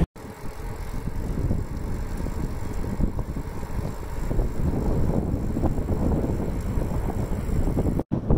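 Bicycle rolling along a road through Nine Mile Canyon, a steady close whir of tires with heavy wind buffeting the microphone throughout.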